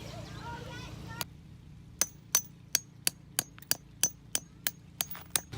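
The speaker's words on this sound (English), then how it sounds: "Once we started hammering in, this terrain is pretty solid, so Glenn here has some metal bolts" Metal bolts with washers being hammered into solid ground outdoors: a voice at the start, then about eleven sharp, ringing strikes in a steady rhythm, close and distinct over faint background hum.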